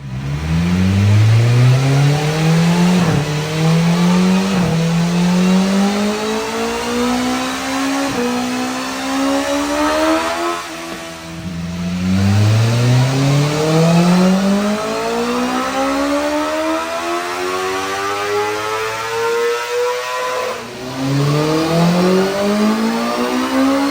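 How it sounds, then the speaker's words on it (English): A 2023 US-spec BMW S1000RR motorcycle on a dyno, its ECU flashed, revs hard through repeated rising gear pulls, the engine note climbing in pitch again and again. It is loud, close and unbroken, with no talk. "Got the 23RR on the dyno here."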